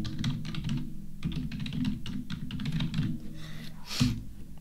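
Computer keyboard typed on steadily at close range, a continuous patter of quick key clicks with a louder keystroke near the end, no voices.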